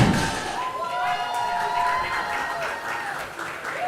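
Crowd at a regional powerlifting championship in the Cayman Islands applauds and cheers with flags and pom-poms, a dense, continuous wash of clapping and voices, with faint whistle-like tones riding over it.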